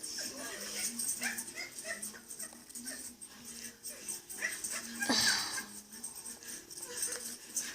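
A pit bull whimpers and yips excitedly over a pork chop, with repeated high whines and short yelps close by, mixed with background voices.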